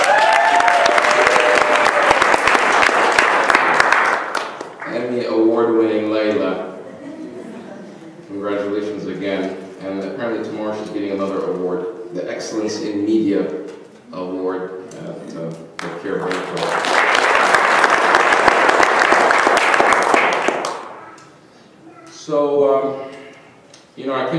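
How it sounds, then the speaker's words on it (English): A lecture audience applauds in two bursts, a few seconds of loud clapping at the start and again later, with someone speaking between them. "let's give Layla a big round of applause"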